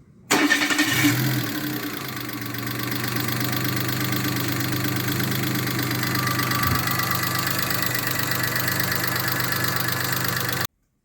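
A Daewoo Matiz engine cranks and catches, then settles into a steady, even idle that drones on without change.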